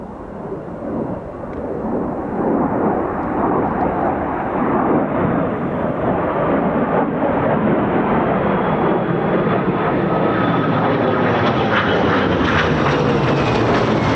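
An F-35B stealth fighter jet comes in to land, a loud continuous roar that swells and holds steady, with broadband engine rumble and a rising high whine, near and dominant with no voices.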